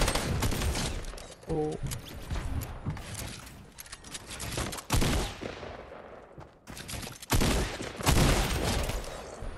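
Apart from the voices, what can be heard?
gunfire in Fortnite video game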